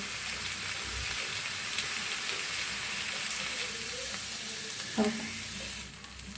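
Dahi dhapate flatbread cooks on a hot oiled griddle as oil is trickled around it, making a continuous close, crackling sizzle that eases slightly near the end.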